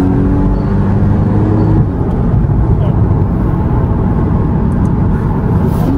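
A Porsche Cayman S 981 drives along a road, its engine a loud, steady rumbling drone heard from inside the cabin, with a slight shift in tone partway through as it pulls onward.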